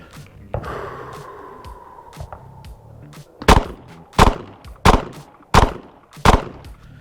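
An HK VP9 pistol fires five sharp, loud shots from 15 yards at an outdoor range, spaced roughly evenly, after a quieter stretch with faint breathing and movement.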